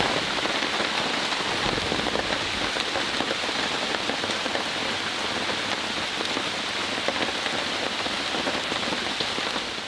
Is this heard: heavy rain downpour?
yes